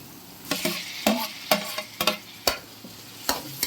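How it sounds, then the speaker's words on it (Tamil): Onions sautéing in a pan while cooking sweet corn kurma, with a soft sizzle under roughly eight distinct scraping stirs of a spoon, spaced evenly about half a second apart. "வெங்காயம் நல்லா வதங்கட்டும்"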